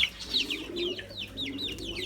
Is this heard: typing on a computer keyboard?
no